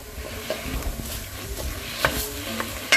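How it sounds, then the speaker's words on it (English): Mushrooms and mirepoix in a pot for cheeseburger soup being stirred, soft scraping and shuffling of the spoon over a light, close sizzle with a couple of sharper taps. "I'm going to salt and pepper this and give it a stir"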